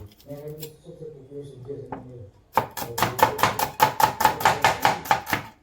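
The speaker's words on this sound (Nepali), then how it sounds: "अब प्याज काट्दैछु" A knife chops onions on a board in a quick, even run of about a dozen sharp, close taps, following a stretch of speech.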